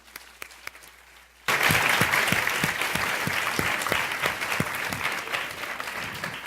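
Audience applause erupts suddenly and holds steady, a dense wash of clapping from a crowd at a Women in Management event welcoming speaker Heidi Roizen.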